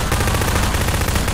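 Rapid, continuous submachine gun fire from Half-Life 2: Episode Two, a dense, loud rattle of shots running unbroken with no talking.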